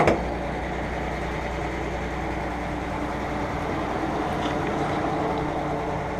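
A 1952 Dodge pilot house truck's overhauled engine idles quietly and steadily, a low continuous rumble with a brief louder burst at the very start and no speech over it.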